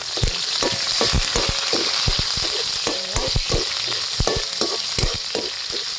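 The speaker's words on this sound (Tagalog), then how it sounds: "gigisa na tayo ng ating pusit" Squid and garlic sauté in a hot pan, a steady loud sizzle broken by sharp clacks of a utensil stirring against the pan at an uneven rhythm, close up with no talking.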